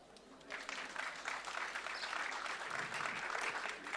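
A seated audience at a talk on humour and news applauds in a steady, faint wash of many clapping hands for about four seconds, with no voices standing out.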